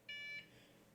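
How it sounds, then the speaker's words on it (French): A PC motherboard booting without RAM gives an error beep: one sharp, loud electronic tone lasting about a third of a second, then quiet room tone. "Il met un bip directement, double bip,"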